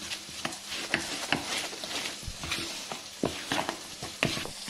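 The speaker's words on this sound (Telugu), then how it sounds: "ఇంతా కలుపుకుంటున్నాను దానిలో కొంచెం ఉప్పు కొంచెం ఆయిల్ కూడా వేస్తాను" Flour dough for spinach puri is mixed by hand with oil and salt in a bowl, making soft irregular squelching and scraping strokes, close and fairly quiet, with no speech.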